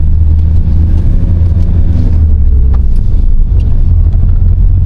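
A car cruises along a road in Morocco, its engine rumbling low and steady under constant road and wind noise heard from inside, loud and unbroken, with no talk.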